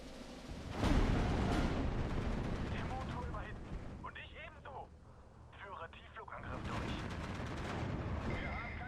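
Mortar blasts and gunfire from the World War II strategy game Steel Division 2, with heavy booms and crackling shots over a rumbling battlefield, while someone talks over part of it.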